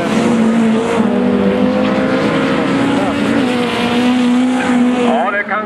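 Rallycross race cars at an ice-track Swedish championship heat in Morjärv, engines droning steadily and loud throughout with rising whines near the end, under continuous commentary.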